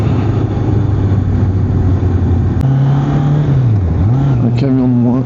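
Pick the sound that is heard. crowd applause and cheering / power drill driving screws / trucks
trucks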